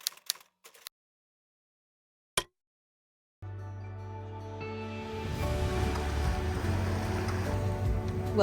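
Ocean wash and wind roll steadily around a sailboat at sea, broadband and continuous after a few faint knocks and a sharp thump, growing louder and fuller toward the end.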